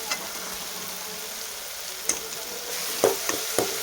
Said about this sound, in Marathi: चटणी टाकल्याच्यानंतर पण परतून घ्यायचं जेणेकरून चटणी पण तेलात छान परतती